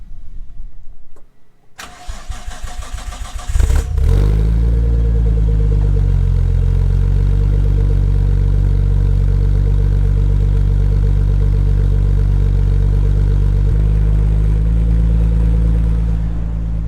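A Nissan R34 with a test pipe in place of its catalytic converter cranks and fires up, then settles into a loud, steady idle with a deep exhaust rumble that lasts to the end.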